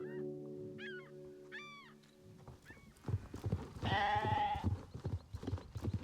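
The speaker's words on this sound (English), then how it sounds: "That was a very loud bah." A sheep bleats a few times in the video game Star Stable Online, set against tonal in-game music, before louder rustling and clopping game noise takes over.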